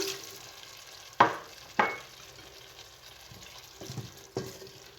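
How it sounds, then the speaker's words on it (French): Wine poured over partly cooked vegetables in a casserole pan for poulet à la casserole, sharp bursts of sizzle at the first splashes, then quieter bubbling with a few more hisses as stirring goes on. "on verse donc notre vin"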